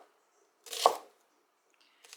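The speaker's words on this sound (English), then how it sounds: "We're going to start by chopping up one small onion." A knife chops a small onion for a broccoli and rice casserole, a single brief cut near the start followed by quiet and a faint scrape at the end.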